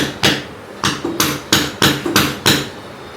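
A hammer strikes hard in a steady series of about eight sharp, loud, close blows during tiling work, with no talking.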